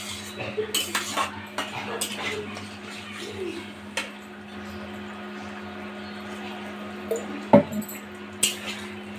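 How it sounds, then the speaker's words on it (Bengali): A spoon stirs chicken curry in a pot after water is added, making irregular metallic clinks and scrapes against the pot, with one louder clank near the end. "এবার একটু ভালোভাবে নাড়াচাড়া করে দেবো।"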